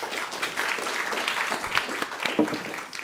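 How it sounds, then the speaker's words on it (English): An audience at the IMPAKT Festival applauds a speaker, producing a moderate, continuous patter of clapping with a few sharper claps standing out, no voices over it. "Let's give him a round of applause."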